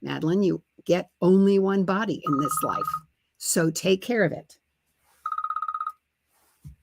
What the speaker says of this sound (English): That's my phone, and I apologize I didn't turn that off before.